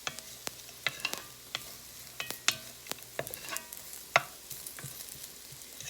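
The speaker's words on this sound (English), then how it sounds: "I'm gonna cook some bacon, some little bacon pieces. And get them crispy" Small bacon pieces frying and crackling in a pan with sharp, irregular pops and spits over a soft sizzle, plus occasional stirring scrapes, close and moderately quiet.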